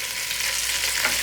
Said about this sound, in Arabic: بنفس الزيت بدي اضيف البصل